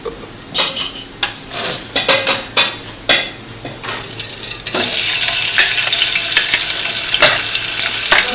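Taro and shrimp frying in a pan and stirred with a utensil, several sharp scrapes and clanks against the pan at first, then a loud, steady sizzle with occasional stirring knocks.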